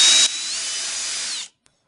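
A power drill with a bit blunted flat whines steadily while cleaning paint out of plug weld holes on a car kick panel, running loud and close for about a second and a half before stopping abruptly.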